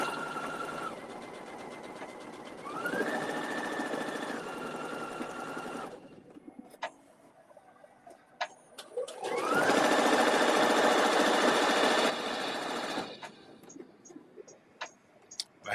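A sewing machine stitches tuxedo pleats in two long loud runs, a shorter burst between them and quiet pauses with small clicks and handling noises.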